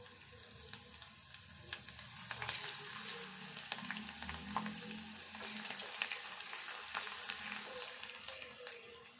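Onions sizzle steadily in hot oil, a close, continuous crackling fry with no voices.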